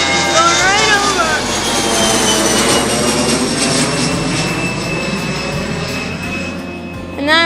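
A jet airplane just after takeoff roars loudly overhead, its engine whine sweeping down in pitch as it passes close above and slowly recedes, filling the whole span.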